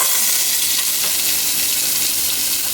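Onions frying in hot oil with methi seeds and ginger, making a continuous, loud, close sizzle that holds steady throughout the short stretch, with no speech.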